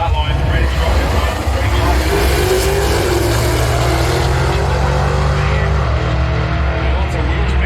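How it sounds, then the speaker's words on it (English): A Holden HT Monaro and another car launch off the drag start line at a street meet at Tailem Bend, engines roaring loud and steady throughout at close range. "And both these cars on the start line ready to rock and roll."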